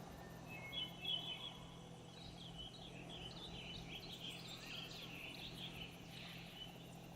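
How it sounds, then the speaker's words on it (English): Birds chirp and tweet in the ambient soundscape of the Jurassic Park Evolution video game, several light, scattered calls at moderate distance over a soft steady hum, with insect-like trills. "Quite nice hearing birds."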